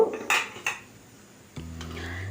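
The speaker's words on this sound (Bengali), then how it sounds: "আমি এখানে ঢাকা দিয়ে দেব" A metal lid set onto a cooking pan while a vegetarian chhana and potol curry simmers: a few light clinks, then a soft settling clank with a faint ringing tone.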